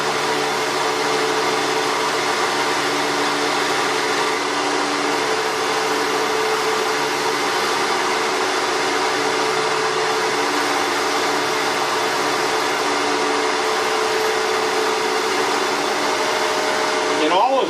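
A wood lathe spins at raised speed while lines are burned into a turned wooden piece, giving a continuous close motor hum with a whining tone that stays even and unbroken throughout.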